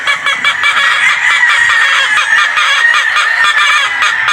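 A dense flock of brood hens at a game farm clucking loudly and continuously, many overlapping calls forming a steady close chorus with no pauses.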